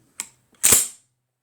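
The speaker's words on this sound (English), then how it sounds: "we'll watch the bolt close again." A Browning Auto 5 Sweet Sixteen shotgun bolt slams closed: a light click followed by one sharp, loud metallic clack, close by and alone.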